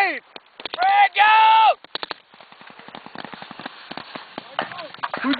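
Rapid bursts of gunfire crack during a Marines firefight training exercise at the School of Infantry, sharp close shots in irregular volleys mixed with shouted voices and a sustained blaring tone.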